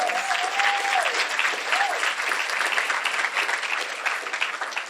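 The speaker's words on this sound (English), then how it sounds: "Please give them another round of applause." A large crowd applauds steadily, dense clapping that fills the whole stretch, with a brief whistle near the start.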